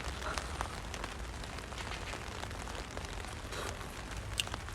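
Steady rain patters softly on a surface at a campsite, a continuous crackling hiss with a few sharper drops standing out.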